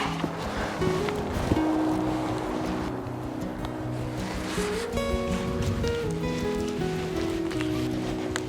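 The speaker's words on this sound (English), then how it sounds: "it's windy and the rain is blowing in" Wind and rain blow steadily across a lakeside hammock camp, a continuous rushing wash that stays at an even level throughout, with faint tonal sounds running underneath.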